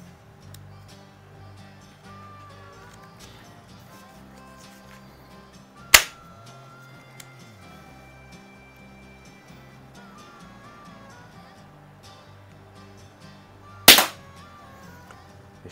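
Two sharp, loud pops from a Beeman P-17 single-stroke pneumatic air pistol, spaced several seconds apart over quiet background hum.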